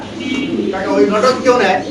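Large fancy pigeons give soft, rolling coos close by, partly buried under someone talking loudly over them for the whole short stretch.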